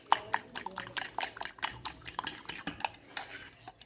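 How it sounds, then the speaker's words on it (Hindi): A spoon stirs no-knead pizza batter in a bowl, a quick run of close wet clicks and scrapes in an uneven rhythm, fairly quiet. "बस अच्छे तरीके से मैं इसको मिक्स कर रही हूँ"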